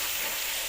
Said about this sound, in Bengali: এবার আমি পেঁয়াজটা দিয়ে দেবো। একটু ভালোভাবে করবো।